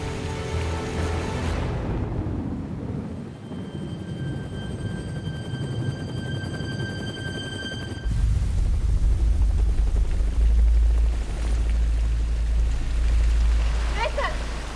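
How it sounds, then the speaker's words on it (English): Rescue helicopter flying on a search mission, heard as a steady rotor and engine rumble with a low drone throughout, growing heavier and closer partway through, under rain-like wash. "A rescue helicopter has been sent to search for the missing plane."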